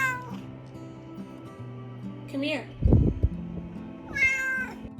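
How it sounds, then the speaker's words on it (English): A cat meows loudly several times in a quiet room, with a short bump or clatter between the calls and a person speaking briefly. "meow loudly, like she was reminding her that the workday had started."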